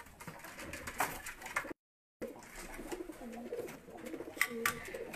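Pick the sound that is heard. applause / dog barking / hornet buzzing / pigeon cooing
pigeon cooing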